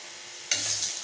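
Puri dropped into hot ghee for halwa puri, a sudden loud sizzle that bursts in and keeps hissing steadily for the rest of the moment, close up with no talking.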